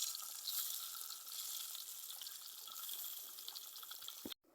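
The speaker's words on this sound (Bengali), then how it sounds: "ঘাটিতে দেওয়ার জন্য ডিমগুলো ভালোভাবে একটু ভেজে নিব" Eggs frying in a pan for a Bengali potato ghati dish, a soft steady sizzle and hiss that runs evenly, then cuts off abruptly with a brief knock near the end, no talking.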